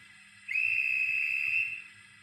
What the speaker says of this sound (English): so we get the guard's whistle